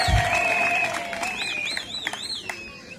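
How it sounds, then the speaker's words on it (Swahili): Congregation applause rising during a sermon about husbands loving their wives, a moderate wash of clapping under sustained electronic keyboard tones that glide and waver for about three seconds. "Hebu makofi jamani, hujipenda mwenyewe."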